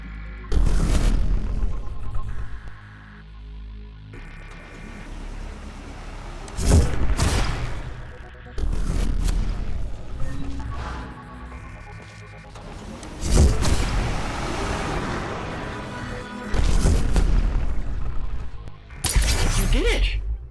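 Tunneling device gun firing in the video game Beta Tunneler: several loud, abrupt booming shots burst out at irregular intervals between quieter stretches of game sounds and music.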